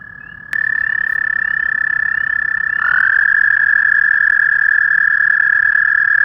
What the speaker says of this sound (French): Quand tous les mâles crapauds vont se mettre à chanter en même temps